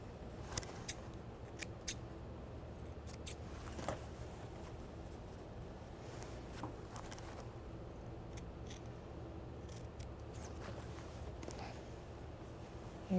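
Scissors snip through the fabric of a puff pillow seat cushion in a series of quiet, irregular crisp cuts over a low, steady background hum.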